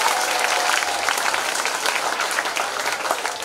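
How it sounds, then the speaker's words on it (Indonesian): A school audience at SMPK St. Yoseph Kupang claps steadily during the NTT governor's working visit, a dense, even wash of many hands that stays loud and unbroken throughout. "Tepuk tangan untuk kita sekalian."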